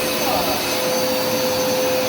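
A Hoover Smartwash carpet cleaner runs steadily, its motor giving a constant loud whine and airy rush across the whole stretch, cleaning light blood stains from carpet.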